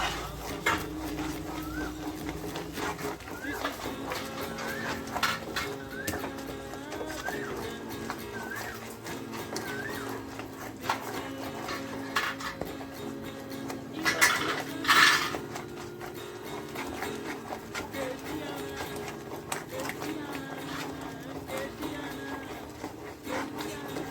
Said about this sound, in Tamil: நெய் விட்டு கொஞ்சம் கொஞ்சமாக நெய் விட்டு நல்லா கிண்டி விட்டுட்டே இருக்க போகிறோம்